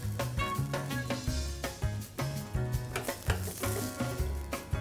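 Cutlets frying in oil in a pan, a dense steady sizzle with crackles and bursts of spatter, fairly close and continuous without talk.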